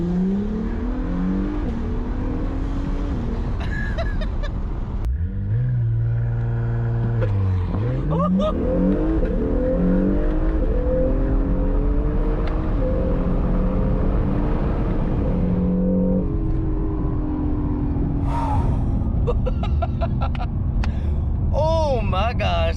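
An Acura NSX accelerates hard, its engine revving up through rising pitch sweeps with a shift-like break, loud and continuous, while people talk excitedly over it.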